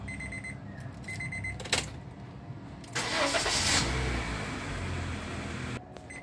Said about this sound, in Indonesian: Ini pas kita starter, spionnya akan terbuka kembali gitu